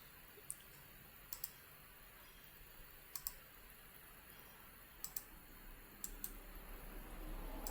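A computer mouse gives sharp, faint clicks, mostly in quick pairs spread over several seconds, against a quiet room hiss with no talking.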